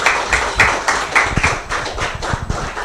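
Audience applause welcoming a speaker at a mining network event in Accra, steady rhythmic clapping close by, dense and continuous over the whole stretch.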